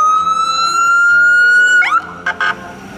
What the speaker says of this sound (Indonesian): ada mobil ambulan teman-teman